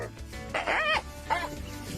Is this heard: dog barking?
yes